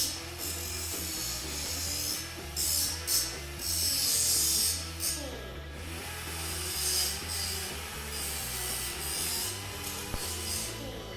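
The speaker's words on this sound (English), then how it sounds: "what I'll do now is just deburr these edges" Air tool deburring the edges of a steel car body panel during a rust repair, a steady hissing, rasping whir that runs continuously near the microphone with brief surges in intensity.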